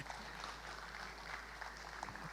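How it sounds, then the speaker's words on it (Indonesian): Applause from an audience at the Riau Zapin Festival, a Malay Zapin dance event: a steady, dense wash of clapping, fairly faint and distant, with no clear voices. "Tepuk tangan."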